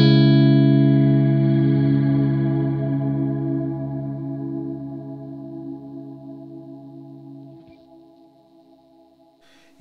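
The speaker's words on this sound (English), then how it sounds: "it's the ionosphere reverb, and I've turned off all the formant controls." Electric guitar feeding stacked Ionosphere reverbs with the formant controls off and a 135-second decay, a single loud sustained tone that washes out and fades slowly over about ten seconds, then cuts away with a small click.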